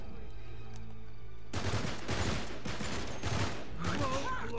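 Gunfire in Uncharted 3 during online co-op play, with a rapid volley of close, loud shots crackling for about three seconds after a quieter lead-in, mixed with game effects.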